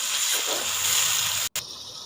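Water poured into masala frying in a pan with green chillies and crushed red chilli sets off a loud, close, steady sizzling hiss that breaks off briefly before continuing more softly.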